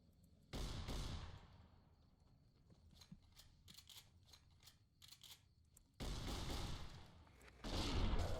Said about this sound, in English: Because I've got a shotgun.